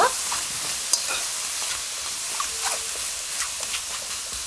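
Fish sauce soy seasoning added to eggplant and shishito peppers frying in a pan, giving a continuous close sizzle and hiss with small crackles and stirring scrapes, no talk.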